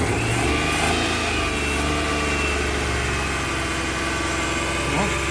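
Suzuki Multicab with an F6a carburetted engine, running rough and hard to start, revving steadily as the accelerator is pressed, with a loud, continuous engine drone throughout.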